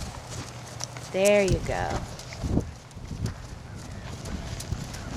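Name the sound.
horse hooves walking in arena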